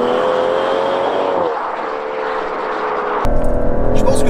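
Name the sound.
Aston Martin DBS Superleggera accelerating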